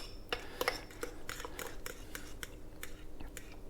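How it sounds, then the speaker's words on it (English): Pumpkin bread chaffle batter with baking powder mixed in a bowl, giving a series of light, scraping clinks from a utensil at close range, repeated strokes in an irregular rhythm with no voice. "give it one final mix here to get everything all mixed in and ready to put into the Dash Minis"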